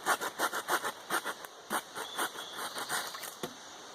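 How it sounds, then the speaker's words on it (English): Laplander folding saw cutting a wooden fishing spear shaft, a quick run of rhythmic back-and-forth rasping strokes, close and fairly loud, easing briefly then resuming. "Shout out to Laplander for having these awesome saws here, and don't ever cut towards yourself like I just did."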